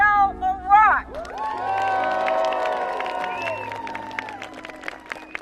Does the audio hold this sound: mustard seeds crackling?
no